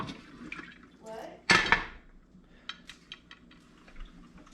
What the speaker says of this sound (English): And I'm going to take the lid off.